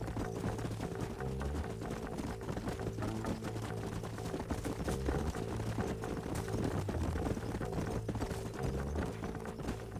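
Horses in Red Dead Redemption, a steady run of hoofbeats drumming beneath a constant dense layer of game music and ambience, even in loudness throughout with no clear whinny standing out.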